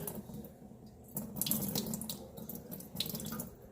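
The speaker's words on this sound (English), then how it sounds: "So I just pour some water." Water poured over a Hanna salinity tester probe to rinse it, a close, steady splashing stream running for several seconds with a brief lighter start.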